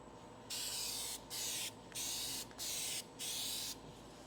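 Spies Hecker Hi-Tec aerosol spray paint hisses out in five steady bursts of about half a second each, close and even, with short pauses between them.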